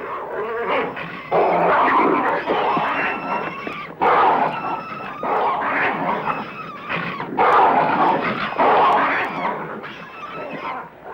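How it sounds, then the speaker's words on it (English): African wild dogs on the Serengeti give repeated high yips, whines and twittering calls in overlapping bursts, fairly close and continuous, with short pauses between groups of calls. "The wild dogs, once regarded as wanton killers, play a critical role in maintaining the natural balance."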